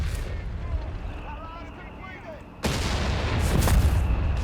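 Artillery bombardment in the Company of Heroes 3 video game: a rumbling game soundscape with faint whistles, then a sudden heavy boom that keeps rolling and crackling, loud and close, with a voice commenting over it.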